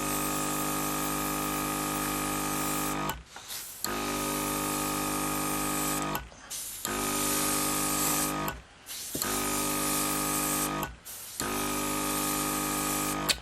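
A BT-16 Spirit Air 12-volt airbrush compressor running as the airbrush sprays, a loud steady mechanical hum with airy hiss, cut by short pauses every few seconds as the trigger is released.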